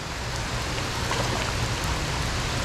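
Steady rain pours down over water on a bass fishing trip, a dense, even hiss of drops on the surface that fills the whole stretch with no talk.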